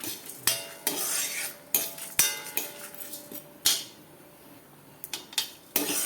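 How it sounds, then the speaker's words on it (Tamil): Dals, dried red chillies, tamarind, asafoetida and curry leaves roasting in a pan for raw banana podi, with repeated sharp clinks and scrapes of a metal spoon stirring at close range, no talking. "இது நல்லா செவக்க வறுக்கணும்."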